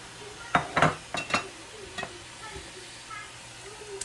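Curry being stirred in a pot with galangal, lime leaves and bamboo for khao poon vermicelli noodle soup, with a few close utensil scrapes and clinks early on, then softer sizzling and stirring.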